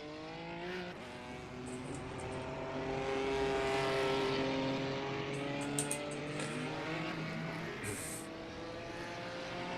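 A BMW M4 GT4 race car engine in the iRacing sim rises and falls through revs with steady harmonic whine and gear shifts, loud and continuous throughout.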